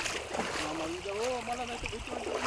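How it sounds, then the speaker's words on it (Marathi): Water splashes and swishes around legs wading across a knee-deep river while a voice talks over it nearby. "तर आम्ही नदी क्रॉस करतोय"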